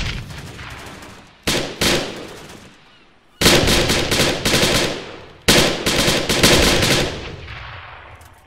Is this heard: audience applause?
no